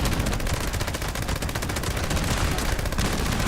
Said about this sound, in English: It doesn't keep the gun from shooting.